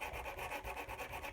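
A sanding stick rubs quickly back and forth over the underside of a sculpted creature, making about a dozen soft, even, rasping strokes in a quick rhythm, quiet and close with no talk.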